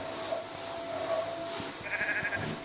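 Sheep bleat in a video game, short bleats over soft game background noise with faint low thumps, no speech.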